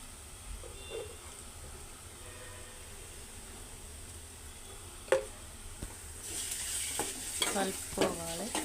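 Onions fry quietly in a pan, a low soft sizzle with occasional scraping stirs that grow busier and louder toward the end.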